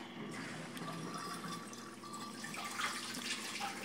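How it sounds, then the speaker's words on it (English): Pump spraying water inside a DIY beer bottle washer, a faint, steady hiss and splash of running water with small spattering bursts. "Why don't we turn on the pump?"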